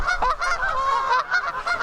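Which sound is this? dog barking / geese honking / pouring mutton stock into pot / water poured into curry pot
geese honking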